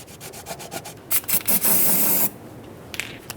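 Cleaning of the brake hose mounting surface on a 2006-2011 Honda Civic during a rear brake hose replacement, heard as short scrubbing strokes that build into a loud, steady hiss of spraying cleaner for about a second, then fade.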